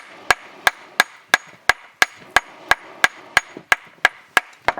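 Hammer striking hot metal while forging a knife blade outdoors, about fourteen sharp, evenly spaced ringing blows close by, each followed by a brief decay.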